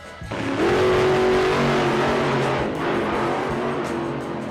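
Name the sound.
Monster Jam monster trucks racing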